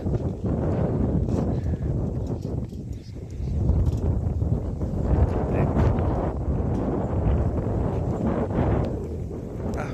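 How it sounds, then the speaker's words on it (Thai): Strong wind roars and buffets the microphone nonstop at the upper reservoir of a pumped-storage power station on Khao Yai Thiang mountain in Thailand on a sunless day, loud and steady throughout. "ลมแรงมากเลย ลมแรงจริงๆ"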